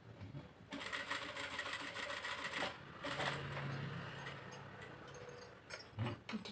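A sewing machine stitches a hook onto fabric, its rapid mechanical whirr running steadily up close after a brief quiet start. Short pauses and a few clicks of adjustment interrupt it near the end.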